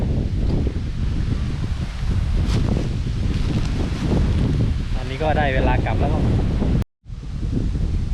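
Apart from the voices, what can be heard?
strong wind outdoors while fishing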